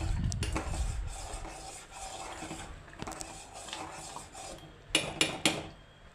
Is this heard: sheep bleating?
no